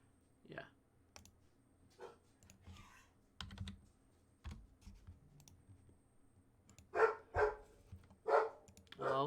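A pet dog named Charlie barking indoors, several short sharp barks clustered near the end, mixed with computer keyboard typing and mouse clicks.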